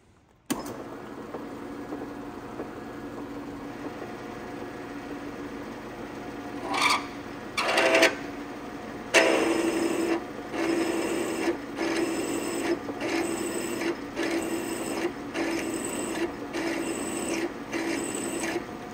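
A drill works through a 3/8 then 11 millimetre hole in metal on a Rans S-21 wing strut truss, a steady grinding rasp that starts, stops in short bursts, then runs on in repeated pecking pulses, close and fairly loud.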